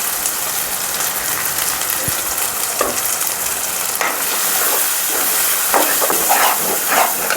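Ginger paste and turmeric deep-fry in a pan with a continuous close sizzle, broken by scattered stirring scrapes and spatters, and no voices.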